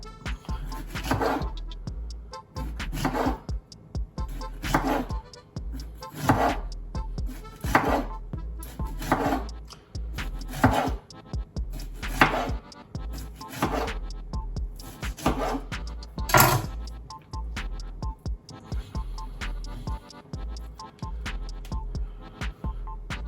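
Knife slicing star fruit into thin slices on a board, a long run of regular, fairly loud thuds about a second apart under a low steady hum, with no voices.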